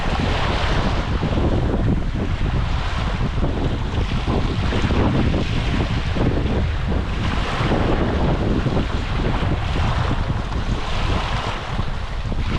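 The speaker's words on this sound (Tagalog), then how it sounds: "lakas ng alon sa lagpasigan nakikita nyo" Loud, steady roar of wind and crashing Red Sea surf on the shore at Aqaba, Jordan, continuous and close, with gusty buffeting on the microphone throughout.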